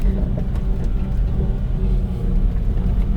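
A Suzuki Carry mini truck rolls downhill in first gear at about half throttle, its engine giving a steady, close, low rumble with a faint whir and no talking.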